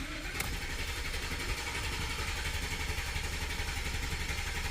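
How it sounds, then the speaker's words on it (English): A 2015 Ford F150 with the 5.0 engine cranks over at start-up after an oil change, a steady, fairly faint mechanical drone that continues evenly throughout. "Like right now, it's cranking over."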